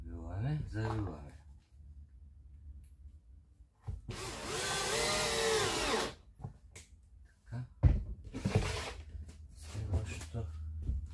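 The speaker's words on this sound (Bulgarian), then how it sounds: "Пробиваме, завиваме." Someone speaks briefly in Bulgarian, then a power drill runs in two close bursts, a longer one and a shorter one, with clunks between them, driving screws into wooden floorboards.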